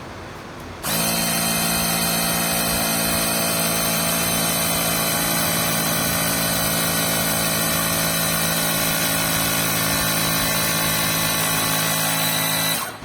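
A small portable air pump, an iMARS TP04, starts abruptly and runs with a loud, steady whine and buzz, holding constant before cutting off automatically at 20 PSI.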